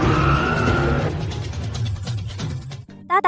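A runaway car moves off on its own with a loud, rumbling engine and tyre noise, a high skidding squeal fading after about a second, then a brief quieter gap and sharp bursts near the end.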